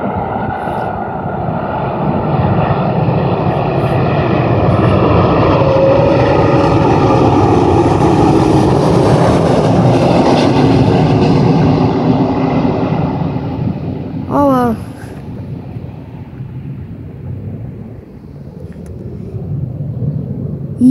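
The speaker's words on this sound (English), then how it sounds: "this is another landing of an Airbus A330" A SWISS Airbus A330 lands on runway 14 at Zurich, its loud jet roar steady and close, swelling and then easing off as the airliner touches down, with wind buffeting in the background.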